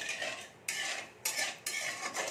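A spoon stirs sugar into half a bowl of water to dissolve it, making close, repeated scraping and clinking strokes in uneven bursts, with no talking.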